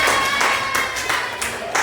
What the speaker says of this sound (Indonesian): Silakan tepuk tangan dulu buat mereka.